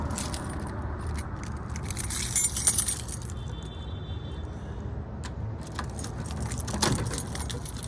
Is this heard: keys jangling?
yes